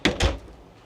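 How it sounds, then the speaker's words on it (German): A hotel room door is shut with two quick knocks, a light latch click followed by a heavier thud, close and alone. "Tür zu."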